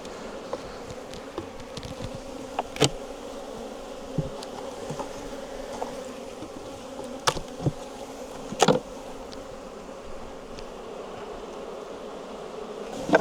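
Honey bees drone around an opened hive as frames and supers are handled, a continuous close buzz broken by scattered sharp knocks and clicks, with no talking.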